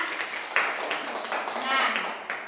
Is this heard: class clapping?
yes